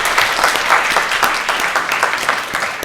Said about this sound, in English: So give a round of applause for yourselves.